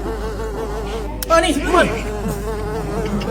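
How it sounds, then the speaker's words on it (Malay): A housefly buzzes close by in a wavering, rising and falling drone that swells for about half a second, with a voice speaking briefly over a constant low hum. "Sumpah tu, aku nampak lalat tadi."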